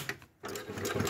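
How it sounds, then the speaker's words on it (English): A PFAFF 2545 ECO Powerline industrial sewing machine runs close up with a fast, steady mechanical whir, briefly pausing before stitching resumes. "So if I'm sewing"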